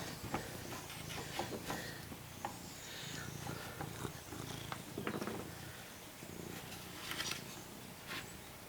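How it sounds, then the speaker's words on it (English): A barn cat purrs steadily and softly up close, a continuous low rumble in a quiet woodworking shop with occasional faint knocks. "She's not even my cat, she's the barn cat."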